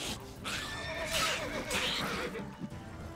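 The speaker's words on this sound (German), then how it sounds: "Na, steig vom Pferd ab, komm her." A horse in the video game The Witcher 3 gives a loud, drawn-out whinny with a wavering pitch, close and clear over faint background game noise.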